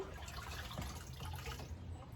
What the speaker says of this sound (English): use another pan, scoop up water